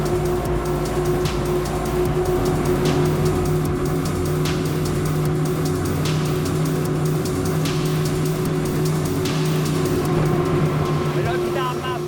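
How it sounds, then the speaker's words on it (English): A Salpa Soleil 52 maxi RIB running at full throttle, a steady loud engine drone with rushing wind and water noise, continuous and unbroken. "which makes me want to push full throttle and test the maximum speed"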